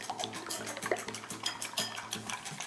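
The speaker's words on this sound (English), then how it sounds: "You have to whisk the egg with chopstick when you're making egg fried rice." An egg beaten with chopsticks in a bowl for egg fried rice: quick, rhythmic clicking and tapping against the bowl, close and steady with a light wet undertone.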